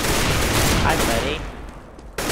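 Dense, loud gunfire from Counter-Strike: Global Offensive, a sustained rattle of shots for over a second that then drops away before a final sharp burst near the end.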